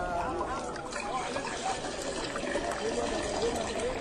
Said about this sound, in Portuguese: E eles encheram os potes até a boca.